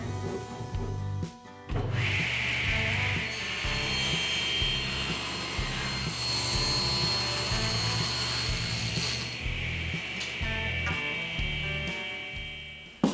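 A table saw rips poplar boards into 1.5-inch strips for cabinet trim, a loud whining blade with a heavy rhythmic motor drone that rises sharply as the wood is fed through, then spins down at the end.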